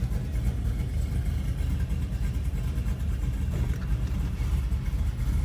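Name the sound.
Chevrolet Camaro engine revving for all-wheel drive burnout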